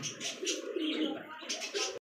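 Caged pigeons at a pigeon sale coo close by, soft repeated throaty calls over a couple of seconds, with faint voices in the background.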